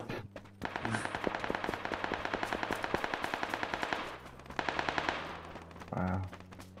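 Rapid automatic gunfire in the video game PUBG, long bursts of evenly spaced shots rattling for several seconds, pausing, then another burst, with a couple of short voice sounds from players in between.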